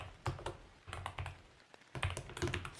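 Brisk typing on a computer keyboard during a coding session, with clustered bursts of close clicking keys separated by a short pause, and no voices.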